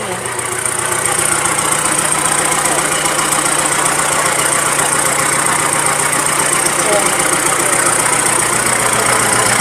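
A tractor engine idles on a dealer's lot: a steady, loud diesel chug with a faint knocking rhythm that runs unbroken and near, under some speech.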